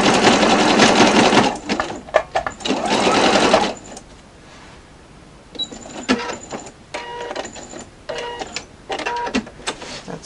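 Sewing machine running a zigzag stitch through fabric for a quilted laundry bag, loud steady whirring bursts of several seconds, then shorter intermittent runs and stops.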